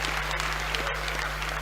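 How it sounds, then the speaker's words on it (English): An audience at an ANC provincial political conference claps steadily, a dense, continuous burst of hand clapping close and loud for the whole short stretch. "Comrades, let's properly clap our hands to thank the Treasurer General"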